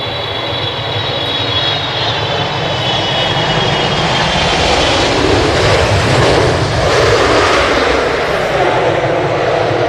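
An Emirates airliner arriving at Manchester Airport on runway 05R gives a loud, close jet engine roar with a whining high tone early on, swelling and sustained across ten seconds.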